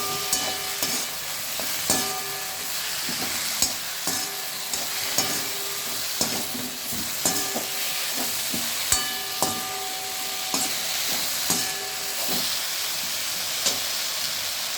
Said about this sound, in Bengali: এই দেখুন সবজিগুলো ভালো ভাজা হয়ে গিয়েছে।